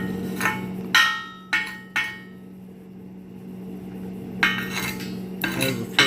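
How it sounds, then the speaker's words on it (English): A chipping hammer strikes weld slag on steel loader fork brackets with a handful of sharp metallic knocks, spaced irregularly, close and clear over a steady low hum. "grab the chipping hammer here"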